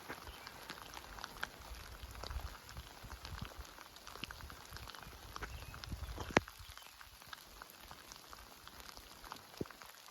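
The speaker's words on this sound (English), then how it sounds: "Birds still singing in this rain." Rain falling on a forest trail on the Appalachian Trail near Winding Stair Gap: a steady, close patter of drops with scattered sharper ticks throughout, and one crisp louder drop near the middle, with no voices.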